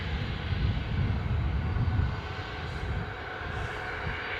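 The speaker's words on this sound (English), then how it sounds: "So the aircraft registration on this Boeing 737, for those who like that information, is GJZBK." A Boeing 737-8 at Newcastle airport roars with a steady broadband engine rumble and hiss, loud and sustained at first, then easing slightly as it continues alone without voices.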